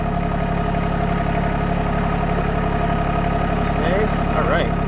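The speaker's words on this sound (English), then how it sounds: "I hope you can hear me with the tractor on." A tractor engine idles steadily and loudly nearby during removal of an RK24 backhoe, an even low mechanical drone throughout with a faint squeak or whine near the end.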